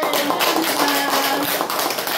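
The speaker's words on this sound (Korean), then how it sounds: "박수로 환영해 주시죠" Dense, steady applause from an audience welcoming an author at a book lecture. It sounds fairly loud and continuous throughout, with no talking over it.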